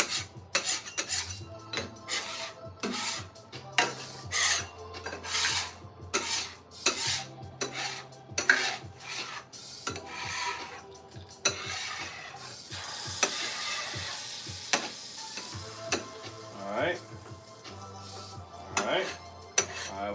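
A cooking pan is scraped and scrubbed clean of thick bacon residue, with repeated rasping strokes and clattering metal knocks in irregular bursts, close by and moderately loud.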